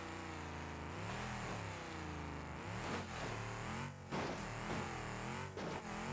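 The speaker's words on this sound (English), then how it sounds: "The engine has took some damage now." Damaged engine of a car in the BeamNG Drive racing game, running loud and continuous, revving up and down with rising and falling pitch throughout, close and alone.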